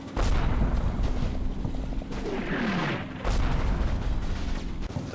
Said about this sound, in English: I combine the machine gun fire with a mortar barrage